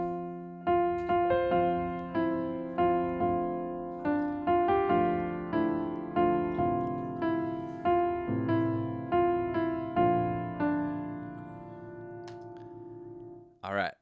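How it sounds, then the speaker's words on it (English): Solo piano plays the intro of a song, a series of soft, evenly spaced chords and sustained notes ringing clearly for about fourteen seconds with no voice. "So the intro piano on its own sounds like this."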